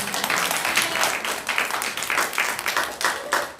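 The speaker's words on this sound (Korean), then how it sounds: "우리 한번 박수 쳐줘" A church congregation at a Sunday worship service applauds, the clapping steady and dense for a few seconds with little talk over it.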